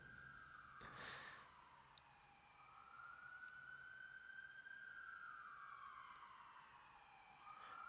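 Emergency vehicle sirens wail through New York City streets, a rising and falling tone sweeping steadily at moderate distance, with a brief louder burst early on and continuous city background.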